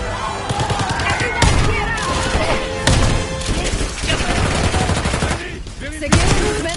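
Loud, dense gunfire in the Black Ops 6 campaign, with rapid automatic bursts and sharp single shots throughout, close and continuous, with voices shouting beneath the shooting.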